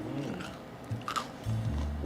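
Someone bites into a crunchy, freshly baked gingerbread cookie, a couple of close, brief crisp crunches followed by chewing.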